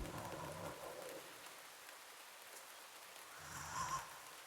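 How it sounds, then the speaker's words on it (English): Steady rain falls in the video game Mouthwashing, a soft continuous hiss of rainfall, faint and even, with a brief swell of louder low rumble near the end. "It sounds like it's raining."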